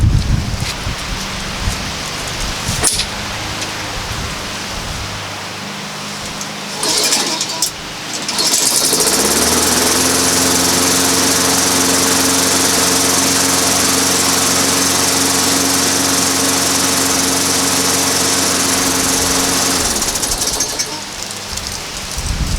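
A repaired walk-behind lawn mower engine starts up and runs at a steady loud drone for several seconds before cutting off, preceded by rustling and handling noises.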